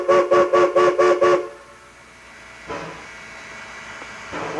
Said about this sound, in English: One long blast on the whistle has 2 basic meanings.